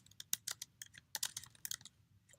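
Quick bursts of keyboard typing while entering a note on a computer, with irregular close clicks clustering into short runs separated by brief pauses.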